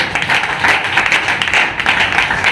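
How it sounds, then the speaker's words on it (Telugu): Loud, sustained clapping from a church congregation, a dense steady wash of many hands with no break across the stretch. "గట్టిగా చప్పట్లు కొడదాం."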